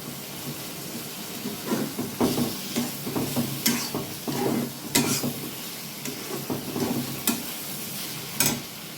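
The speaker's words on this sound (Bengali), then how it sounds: "মশলাটা ভালো করে কষাবেন।" Spice paste for a bean and potato curry sizzles steadily in a pan while a spoon scrapes and stirs it in repeated bursts, close and moderately loud, with no talking.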